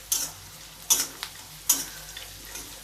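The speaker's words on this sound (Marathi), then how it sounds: "आता आपण कांदा तळून घेऊया लालसर होईपर्यंत" Onion fries in a pan with a faint, low sizzle, broken by a few sharp scraping stirs spaced under a second apart.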